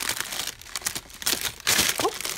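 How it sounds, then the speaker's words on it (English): Plastic wrapping crinkles and crackles in irregular bursts, close up and fairly loud, with rustling handling throughout. "Sorry for all the crackling."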